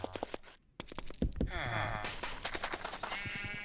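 A sheep in Minecraft, played with the FTB modpack, gives a short wavering bleat up close amid light game sounds and footsteps, loud and clear, with no talk over it.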